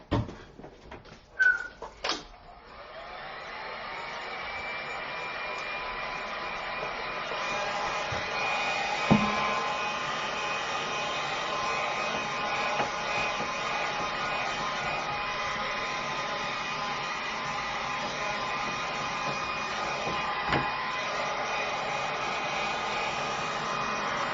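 A heat gun blows a steady, close whooshing hiss while heat sealing a prop, running continuously for over twenty seconds after a few brief knocks at the start.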